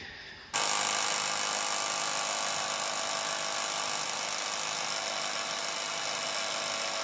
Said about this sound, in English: So today I want to highlight the Craftsman Sears and Roebuck, the 103 power sander.